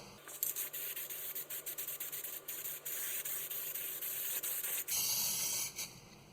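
Steady hissing spray from an aerosol can, pulsing in short bursts and continuous stretches, close up, with faint clicks and no talking.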